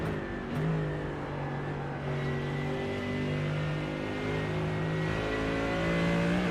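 Onboard sound from a GT Masters race car at Monza, its engine holding a loud sustained tone that rises and falls with revs and gear changes throughout.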